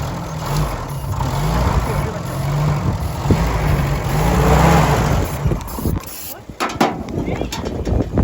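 A rough old Army Jeep engine runs loudly and revs up in surges, sputtering and cutting out near the end, with voices in the background.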